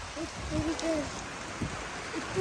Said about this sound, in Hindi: ऊपर से बारिश